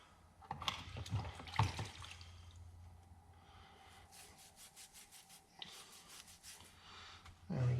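A faint stream of water rinses cleaning residue off a small LS engine part, with rubbing and handling noises up front followed by a steady, gently pulsing trickle.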